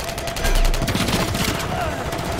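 MTZ-556 rifle firing in Modern Warfare 3, a quick burst of rapid gunshots up front followed by scattered echoing shots and game noise, with faint voice underneath.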